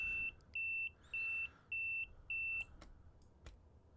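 In Train Simulator Classic, a cab AWS warning beep sounds five times in an even rhythm of clear high tones, followed by a few faint clicks and knocks.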